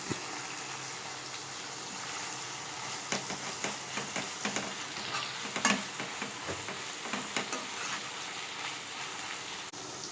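Cough leaves fry in a pan as tamarind is added, a low, constant sizzle with a run of rhythmic scraping stirs from a spoon, close and fairly quiet.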